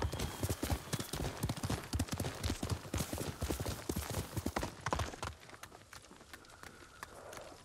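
A horse's hooves clip-clop rapidly at a trot in the Ghost of Tsushima video game, loud and close for several seconds before slowing and fading to quieter, sparser steps.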